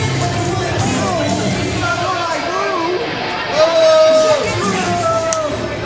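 A pro wrestling crowd cheers and shouts for a new champion, a constant roar of chatter, whoops and yells that swells briefly midway, with voices talking over it.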